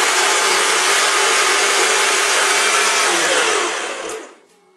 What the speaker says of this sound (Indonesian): Kedelai yang sudah di blender